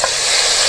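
Hot tadka tempering with chilies hits beef chana dal and sizzles loudly, a dense burst of close frying hiss for under a second.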